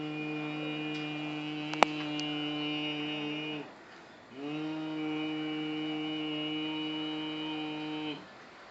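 A steady, low nasal hum with rich overtones from bee-breath yoga breathing is held for several seconds, pauses for a breath, then resumes at the same pitch.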